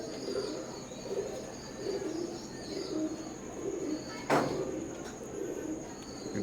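Teddy pigeons of an imported bloodline cooing in a pair, soft low rolling coos repeating steadily against a faint background hiss, with one sharp brief knock partway through.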